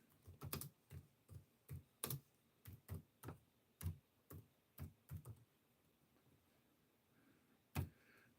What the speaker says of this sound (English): I'm not very good at typing.